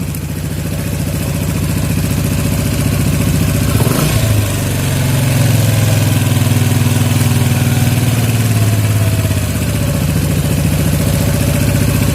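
A Yamaha Jupiter MX motorcycle engine idles loudly up close during carburetor tuning, then is revved higher and held at a steady roar before easing back down.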